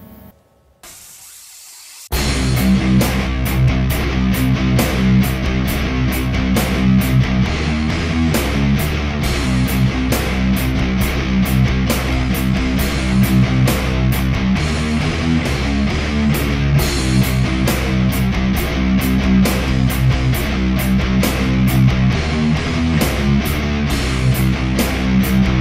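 Heavily distorted metal guitar riffing through the break of a song, a dense, loud wall of fast chugging palm-muted picking that starts abruptly after a short quiet lead-in and drives on without pause.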